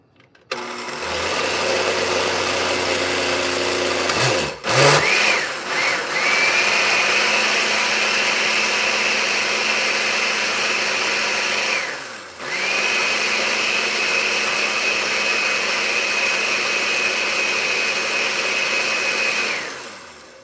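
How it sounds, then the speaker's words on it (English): A blender whirs loudly and steadily through mangoes and yogurt, starting after a short low hum, with a brief stop and restart partway through, then running on without any voices. "it has mangoes and yogurt blending"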